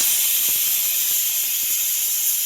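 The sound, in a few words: pressure cooker hissing steam while cooking chickpeas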